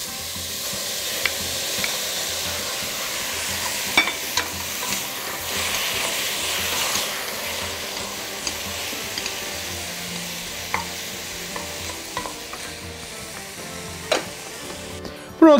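Salmon with garlic and sprouts sizzles and sautés in a hot pan, a steady close frying hiss broken by occasional stirring clicks and scrapes, with no talking.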